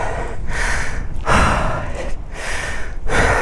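Heavy, ragged breathing of a rider winded from pushing a stuck Honda Transalp 750 motorcycle off-road: three or four loud gasping inhales and exhales close to the microphone, with no talking.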